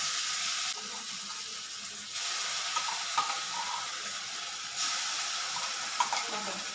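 Onion frying gently in a pan over a low gas flame, a soft continuous sizzle with a few faint clinks, steady and close.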